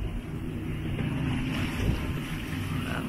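Sailboat under sail at sea off the Marseille coast, with a steady broadband wash of water and wind rushing past the hull and microphone and no clear individual wave breaks, and no talking.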